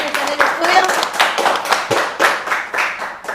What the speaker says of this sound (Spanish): Un aplauso, por favor, a toda la gente que está en el estudio.